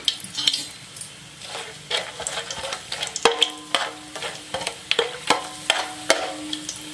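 Cinnamon, cloves and bay leaf crackle in hot oil and ghee, a close sizzle broken by repeated sharp scrapes and taps of a spoon against the pot in an uneven rhythm.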